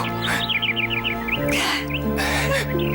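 Songbird singing a run of rapid bright chirps and trills, clear and fairly close, while people talk over it in between phrases.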